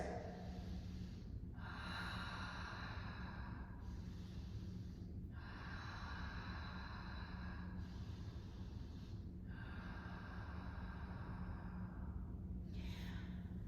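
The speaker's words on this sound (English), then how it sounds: "3 deep breaths" Slow, deep breaths during a standing-balance yoga flow, three long inhale-exhale cycles, close and quiet with no talking.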